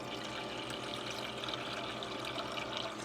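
Filtered water from a reverse osmosis system faucet pours in a steady, continuous stream, a close, even splashing rush that holds without pause.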